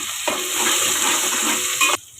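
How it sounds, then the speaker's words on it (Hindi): Ginger and green chili paste frying in oil in a pan, a steady close sizzle that holds for about two seconds and then cuts off abruptly. "अदरक और हरी मिर्ची का पेस्ट। इसको हल्का सा हमने ब्राउन करना है।"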